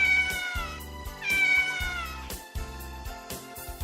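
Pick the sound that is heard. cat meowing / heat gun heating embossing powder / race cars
cat meowing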